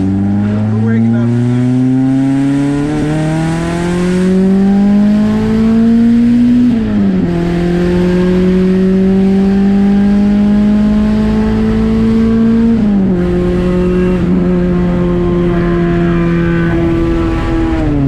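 A Honda Accord's all-motor H23A engine revs repeatedly through its exhaust, the pitch climbing steadily then dropping between shifts, loud and close for the whole stretch with a droning rasp.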